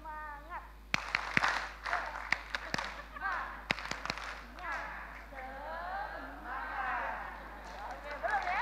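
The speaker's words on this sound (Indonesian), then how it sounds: "Tepuk semangat." Sharp, spaced hand claps from a church gathering trying a rhythmic spirited clap pattern, a few loud distinct claps in an uneven sequence, with a voice and crowd chatter over them.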